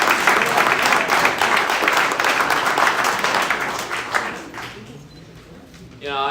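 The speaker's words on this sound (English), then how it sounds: "Let's give them a great big round of applause." A community meeting audience gives a big round of applause, loud dense clapping that swells for several seconds and then thins and fades, followed by a brief sound at the end.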